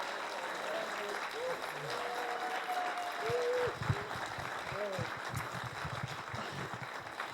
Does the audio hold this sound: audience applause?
yes